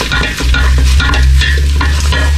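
Tomato paste frying in a pot, stirred briskly with loud, close scraping and sizzling that runs continuously without pause.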